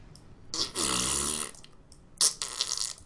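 A voice imitates farts with the mouth: a long, buzzy, sputtering raspberry, then a shorter burst after a pause, both close and fairly loud.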